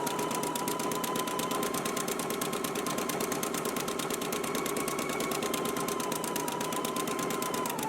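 A sewing machine stitching garment seams with a zigzag stitch runs continuously at a fast, even rhythmic pace, close and steady with no pauses or talk.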